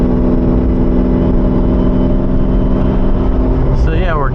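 A Lamborghini Diablo engine warming up on a cold gearbox day, a loud steady low idle drone heard from inside the car, with a brief rising whine near the end.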